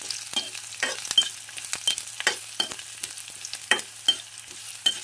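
Onion and ginger sizzle in a pan for crab in coconut milk, with steady frying crackle and repeated scraping stirs close by, no voices.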